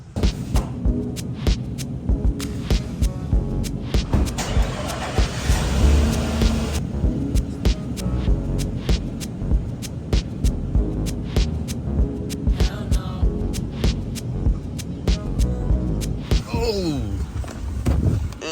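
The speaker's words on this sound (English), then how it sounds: "we're gonna jump in the truck and drive to work" A pickup truck, shifted into four-wheel-drive high, drives on a snowy road, giving a steady engine hum and throbbing drone with scattered knocks and clicks heard from inside the cab.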